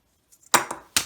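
A plastic Transformers Siege deluxe toy leg drops and clatters, giving a sharp close impact with a short bounce and a second knock, after faint handling clicks.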